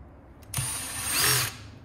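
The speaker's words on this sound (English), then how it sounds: "I would use some actual drill for this one." A power drill removes the fan shroud screws from a Wagner Titan 540/640 paint sprayer motor, with a single whirring burst of about one second, close and fairly loud, after a brief click.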